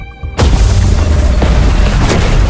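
An enemy aircraft bursts into flames and explodes in the video game Love and Deepspace, a sudden loud boom after a brief quiet tone, followed by a heavy sustained roar with a couple of sharper cracks.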